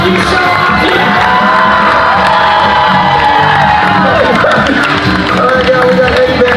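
A fair crowd at a hypnotist show cheers and whoops loudly, a dense, continuous roar of many voices with shouts and children's yells rising through it, close and overwhelming throughout.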